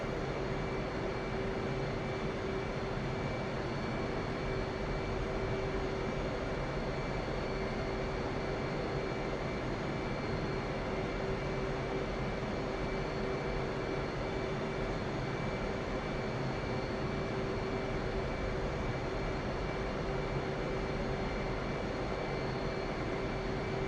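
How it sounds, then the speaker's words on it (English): F/A-18 jet engines in the DCS flight simulator, revving while the aircraft rolls onto the runway, a steady loud whine and roar that holds almost constant throughout with a sustained high tone. "Increase engine RPM and enter the runway."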